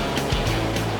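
Large surf waves break at a beach on Bima's southern coast, a continuous loud wash of churning water with low rumble, close and unbroken through the second.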